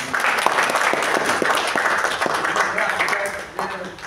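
Applause from an audience at a Marathi public talk, a dense, steady crackle of many hands clapping that holds for about four seconds and then thins out near the end.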